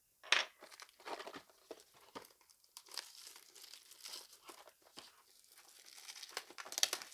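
Thin plastic wrapping on a small miniature package crinkles and crackles in quick, close bursts, soft and intimate with short pauses between handfuls of crumpling.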